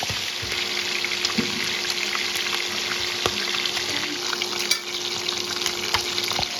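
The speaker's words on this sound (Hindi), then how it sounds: "ये सारे चिकन पीस एक साइड से फ्राई हो गए हैं" Chicken pieces sizzle steadily in hot oil in a pan for a Kashmiri dish, a dense continuous crackle with occasional louder pops and light stirring scrapes, close and alone.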